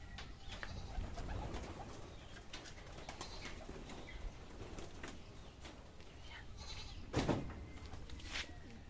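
Black and white stock pigeons in a loft make soft, low cooing and murmuring that sits under a constant rustling background, with a few brief sharper calls toward the end.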